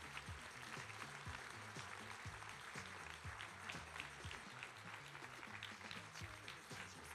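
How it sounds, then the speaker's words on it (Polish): A crowd at a children's fashion show gives a long, even round of applause, dense overlapping claps holding steady throughout at moderate level, with a faint murmur beneath. "wielkie brawa."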